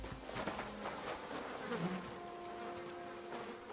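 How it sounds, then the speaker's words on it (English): Bees buzz around a beekeeper's hives in the video game Kingdom Come Deliverance 2, a steady droning hum at moderate distance with no voices. "Those are my bees."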